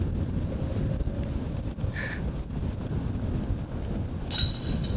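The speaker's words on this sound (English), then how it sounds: "You have to be aggressive in that headwind." Strong headwind buffets the microphone on a disc golf course, a low continuous rumbling roar with gusty swells and a few brief higher rustles, no voices.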